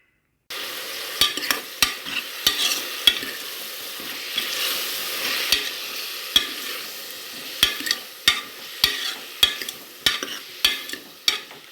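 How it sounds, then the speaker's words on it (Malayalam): Chicken curry ingredients hit hot coconut oil and fry with a bright, steady hiss, while a spoon knocks and scrapes the pan in a quickening series of sharp taps. "നമുക്ക് വെളിച്ചെണ്ണയിലേക്ക് ഇതെല്ലാം ഇടാം."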